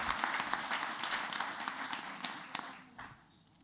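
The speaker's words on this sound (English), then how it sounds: "One more round of applause for our Wheatlands Pride winners" A round of applause for Wheatlands Pride winners at a school board meeting, many hands clapping in a brisk, fairly distant patter that thins and fades out near the end.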